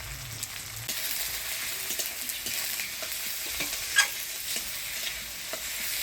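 Onion, tomato and crushed garlic frying in a pan for a Bengali fish curry, a steady close sizzle with occasional stirring scrapes running the whole time, no voices.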